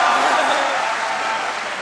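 Steady applause from an audience at a Hindi poetry recital, a dense even patter of clapping that holds at a fairly loud level for the whole moment, with no voice over it.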